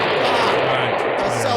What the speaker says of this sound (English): It's an explosion. It's not supposed to be quiet.